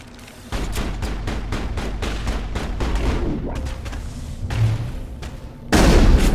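An enemy fires a pistol at the player in the video game Mass Effect: a rapid, regular string of loud sharp shots, with a heavier, louder burst at the very end.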